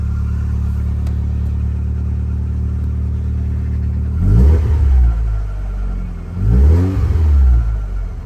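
A car engine, just repaired with a coil pack fix after breaking down in a supermarket car park, idles steadily up close, then revs sharply twice, each rise swelling loud before dropping back to a smooth idle.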